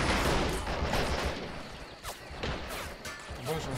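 Machine gun fire in the war strategy video game Men of War: dense, continuous bursts of rattling shots and crashing impacts, loud and unbroken for the whole stretch.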